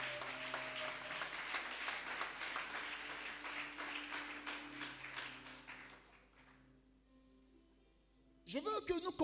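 A church congregation applauds and acclaims loudly for several seconds, a dense wash of clapping and cheering that fades out before a voice speaks at the end.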